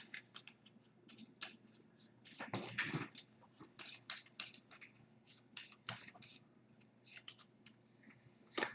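Playing cards are shuffled for a Dominion Intrigue card game, a quiet run of crisp riffling and flicking bursts, close and faint with no talking.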